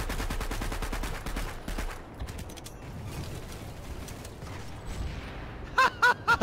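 Rapid bursts of turret gunfire from the Planetside 2 video game rattle out in a fast, regular string for about two seconds. Dense battle noise follows, then a few sharp mechanical clanks at the end.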